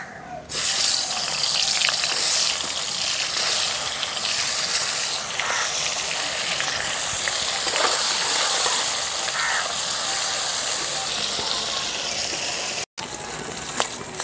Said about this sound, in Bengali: এখন মাছের মাথাগুলো কড়া করে ভালো করে ভেজে নেব